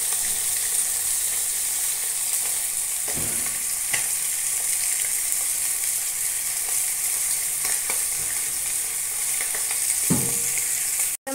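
Chicken roast pieces coated in masala fry in a pan with a steady, loud sizzle throughout, broken by a few soft stirring or turning knocks.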